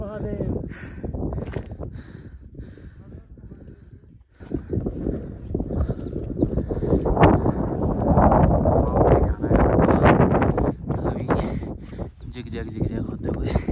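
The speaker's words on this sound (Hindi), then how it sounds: "फिर से हवा चलने लग गई।" Strong mountain wind gusts across the high Himalayan trail of the Roopkund trek near a hillside temple, a steady loud roar that swells after a brief lull, with people talking over it.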